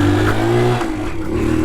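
A 2005 Honda Dax 90 replica motorbike engine revs briefly while being ridden, a loud, close, buzzing tone that dips partway through as gears are found, with no talk.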